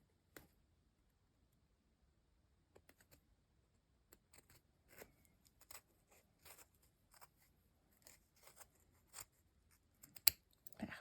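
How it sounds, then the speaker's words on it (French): Scissors snip yarn wound around cardboard pompom rings, giving sparse, quiet crisp cuts that speed up into clustered snips near the end, with no talking. "on coupe comme ça ici tout le long du contour"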